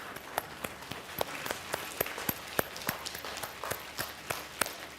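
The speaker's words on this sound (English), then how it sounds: "We're going to give a very gentle round of applause to all of our animal menagerie and their owners." Gentle, sparse audience applause for an animal show, scattered individual claps at a soft level, irregular and light rather than a full ovation.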